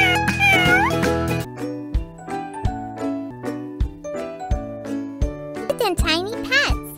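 A cartoon kitten in a cute tiny pets children's game meows in short tonal calls, mixed with chiming jingles and bright synthesized music notes repeating in a steady rhythm, with a voice speaking briefly at the start and end.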